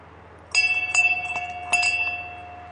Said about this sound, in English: Ring the bell to tell others you are coming up.